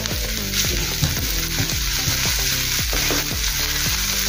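Green onion and finely chopped coriander fry in a pan of moong dal snack mixture, a steady close sizzle with rhythmic scraping strokes of a spoon running underneath throughout.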